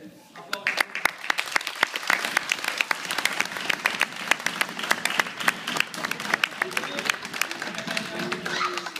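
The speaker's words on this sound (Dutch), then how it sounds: "Applaus" Parents and onlookers at a judo club clap for the children receiving their first yellow belt stripe, a steady patter of close individual claps and applause running for nine seconds with voices murmuring underneath.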